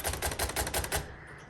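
Sharp mechanical clicks and keystrokes from a 1956 Royal Quiet Deluxe manual typewriter as the margin is set, a quick run of close, loud taps followed by quieter mechanism noise, with no talking.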